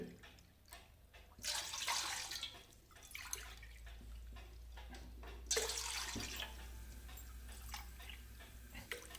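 Water poured into a pot to make chakali dough from bhajani flour, a steady splashing pour with a couple of louder surges, close and alone with no talking.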